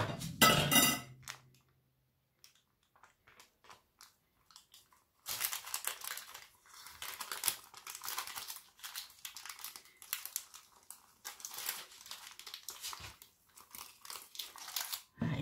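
Paper carefully peeled away from a baked sponge sheet, a close crinkle at the start, a short pause, then a long run of soft, uneven crackling and rustling tears coming in bursts.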